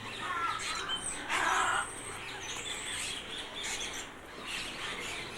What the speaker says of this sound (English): And here we have a flock of scarlet ibis